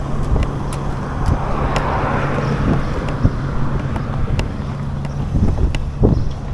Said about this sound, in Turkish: Of rüzgar her taraf.